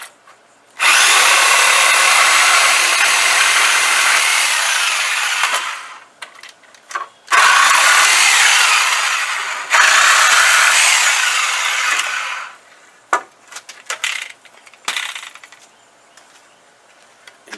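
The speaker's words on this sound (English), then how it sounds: "a reciprocating saw with a metal blade" A reciprocating saw fitted with a metal blade cuts through the nails holding a wooden pallet plank. Loud and close, it runs in three long buzzing passes broken by brief pauses and rattling.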